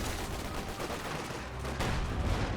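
Mortar fire in the Company of Heroes 2 battle, dull booming impacts and a dense crackle of distant combat rolling continuously under a busy background with no speech.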